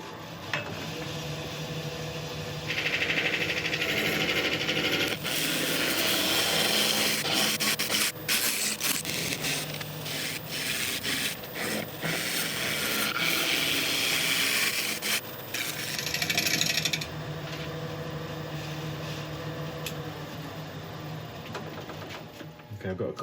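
Woodturning lathe tool cutting a wooden bowl in a workshop: a continuous rasping, scraping hiss with bursts of harsher cutting and brief pauses, fairly close and steady throughout.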